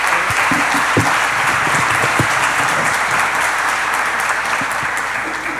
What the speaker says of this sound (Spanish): Despidámoslos con un muy fuerte aplauso